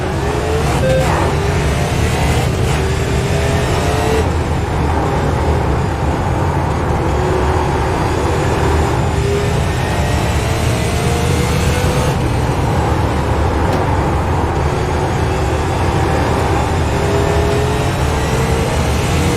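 Race car engines roar at full throttle on a track in a RAID iSports Super Series race at Five Flags, a loud continuous drone with rising pitch sweeps as cars pass, heavy low rumble throughout.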